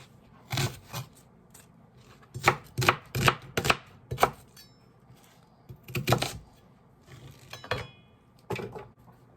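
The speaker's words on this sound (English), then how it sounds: "And I'm just going to give this a rough chop as well." A kitchen knife roughly chops onion on a board for a Japanese ginger salad dressing, coming in quick bursts of three to five sharp close taps with brief pauses between them, and no voices.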